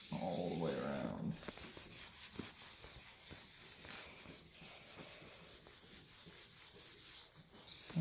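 Sanding a scratched, hazy headlight lens on a Honda minivan with a 3M headlight restoration kit: a continuous close rubbing and scraping texture, with a louder burst of low noise at the start.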